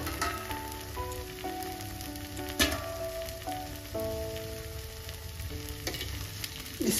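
A fasting chila, a vrat-style recipe, sizzles gently in oil in a pan over low heat, a steady soft crackle running throughout with small pops and clinks, while a faint melodic background tune plays underneath.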